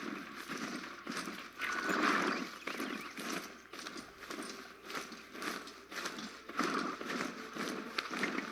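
Horse mount hooves in the video game Horizon Zero Dawn, a steady galloping clip-clop running throughout at moderate level over a dense game ambience.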